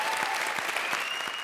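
Studio audience applause at a live comedy show, a dense burst of many hands clapping at once, fairly loud and steady for a brief moment.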